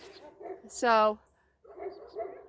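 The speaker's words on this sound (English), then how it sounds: "My neighbor's dogs are just going crazy today." Neighbor's dogs give one loud, drawn-out yelping bark in the middle, with voices talking before and after it.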